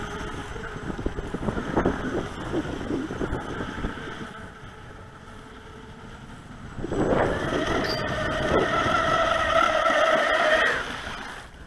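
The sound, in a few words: radio-controlled boat motor running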